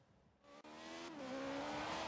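Alfa Romeo 4C engine in Forza Horizon 3, driven on a street: a steady, rising engine drone that climbs in pitch as the car accelerates, with a brief dip in the middle, continuous and fairly loud without talk.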